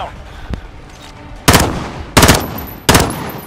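Gunfire in Call of Duty: Modern Warfare: a single sharp shot followed by three loud, close bursts spaced about a second apart, each ringing out over quieter background game noise.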